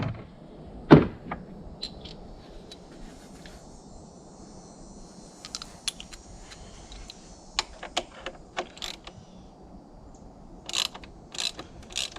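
Ratchet clicks come in short bursts while bolts are removed on the engine of a 2014 VW Touareg 3.0L TDI. A sharp knock sounds early on, followed by scattered mechanical clicking at moderate distance in quiet surroundings.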